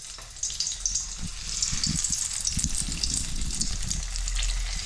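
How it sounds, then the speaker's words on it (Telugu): Stuffed eggplants frying in hot oil in a home kitchen, a steady close sizzle and hiss with soft bubbling crackles underneath, continuous and moderately loud without pause. "నూనె వేడెక్కిందమ్మా. వంకాయ సలసల కాగే నూనె లేస్తే"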